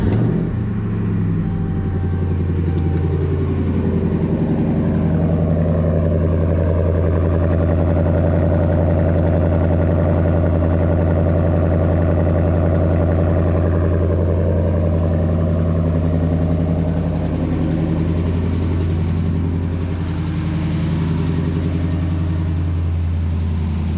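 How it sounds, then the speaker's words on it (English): A Hemi truck engine idles steadily and close by for over twenty seconds, with a ticking exhaust leak from a snapped rear exhaust manifold bolt sitting under the even, continuous rumble; no talking. "Still got an exhaust leak I need to fix on this truck. You can hear it."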